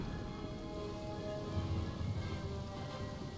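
Steady rain pours down in a dense, even wash of droplets in the video game Napoleon: Total War, with a faint low rumble underneath and no voices.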